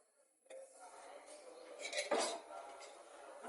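A metal kadhai (wok) is picked up and set down for frying, with a sharp nearby clatter of cookware about two-thirds of the way through and softer knocks and rattles around it.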